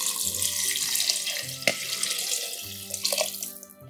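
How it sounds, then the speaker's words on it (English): Warm water runs from a tap into a pot while pozole with chicken is being made, a steady close splashing stream lasting about four seconds with small clinks near the end. "we are going to add more water to it"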